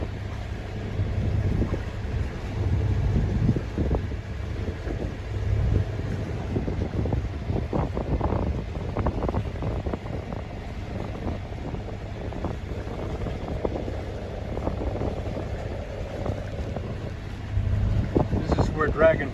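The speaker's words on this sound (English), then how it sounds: "Nice wind blowing." Wind of about 10 knots blows across a sailboat on a warm day, making a steady rushing buffet on the microphone with gusts and faint water sounds, while someone talks intermittently.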